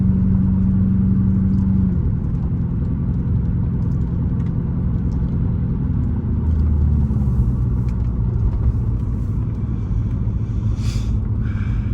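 A 1988 Porsche 928 S4 drives out along a back road, its engine a steady low rumble with road noise inside the cabin, shifting pitch slightly as it changes speed.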